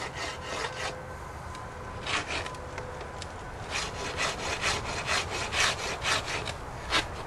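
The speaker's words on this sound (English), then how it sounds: "right now all I'm doing is smoothing everything up to see where I'm really at." A tool is drawn back and forth over an Osage orange wood bow clamped in a bow vise to smooth it, making quiet rhythmic rasping strokes with short pauses between passes.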